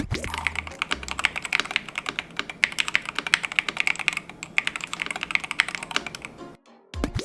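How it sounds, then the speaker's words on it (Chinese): Steady, brisk typing on an IQUNIX EZ80 mechanical keyboard with gasket mounting and steel plate stabilizers, each keystroke a crisp, fairly bright clack in a dense, close rhythm that runs unbroken until a brief stop near the end. "我们就先来听听看它的打字音吧"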